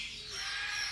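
Parrot squawking at Parrot Mountain and Gardens in Pigeon Forge, Tennessee, a bright, harsh call held steady over the whole short moment, close and fairly loud with no talk over it.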